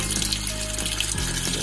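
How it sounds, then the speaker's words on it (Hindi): Water pouring steadily into the tub of an LG top load washing machine during tub cleaning, a loud continuous gushing rush close by with no talk. "हम वेट कर रहे हैं इसके फुल्ली भरने के"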